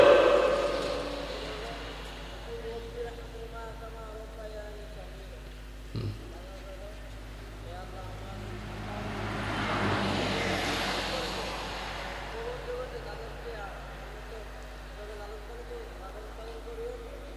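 A vehicle passes in the background during a man's outdoor religious sermon. Its low rumble swells gradually and fades again beneath his voice.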